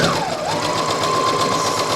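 A sewing machine reverse stitches near a pivot point while sewing a patch pocket with a flap, a loud, close, continuous whirring hum of steady rapid stitching with a slight pitch dip early on.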